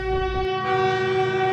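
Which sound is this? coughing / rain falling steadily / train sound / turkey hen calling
train sound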